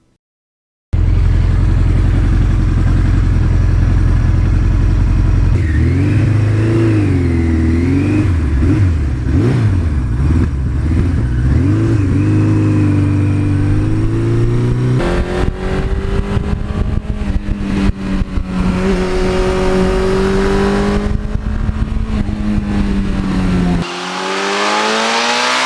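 A 1982 Suzuki GS1100E motorcycle engine roars while riding, loud and continuous, revving up and down through the gears with rising and falling pitch and wind rush, then dropping off near the end.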